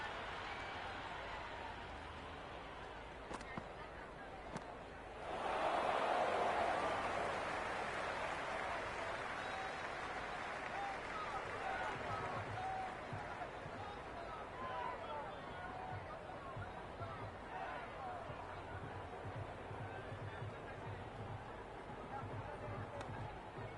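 Steady crowd roar and cheering from a T20 World Cup cricket match between England and West Indies at Wankhede in the Cricket 26 video game, swelling louder partway through and holding as a dense, continuous wash of noise.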